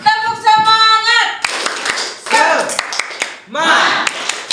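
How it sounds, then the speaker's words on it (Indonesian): A classroom of students performing a rhythmic spirit clap during a lesson, a tonal voice leading briefly before bursts of sharp, patterned claps mixed with chanting voices, loud and close. "supaya nggak lemas kita tepuk semangat dulu. Tepuk semangat."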